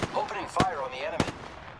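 Three sharp gunshots ring out about half a second apart during an Apex Legends firefight, with a person's voice talking between and over them.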